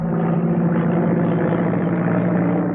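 A propeller plane engine in flight drones loudly and continuously, a dense, unbroken roar with a low hum and no voices.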